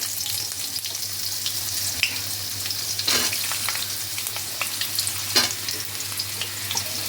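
Potatoes dropped into hot oil with tempering spices for a vegetarian gourd-greens and pea dal dish, a loud continuous sizzle with a few sharp splatter bursts as pieces hit the pan.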